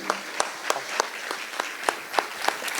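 An audience at a Jain Kshamavani forgiveness-festival gathering applauds, many hands clapping in a steady patter with regularly spaced louder accents, fairly close and even throughout.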